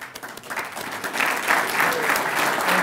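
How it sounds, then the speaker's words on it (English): An audience at a public service awards ceremony applauds, the clapping starting lighter and swelling into a fuller, sustained round. "we'd like to give you a round of applause"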